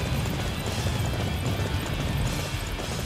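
Galloping horse hooves in Dynasty Warriors 9, a dense, continuous rumble of pounding hoofbeats and battlefield noise, loud and unbroken with no clear gaps.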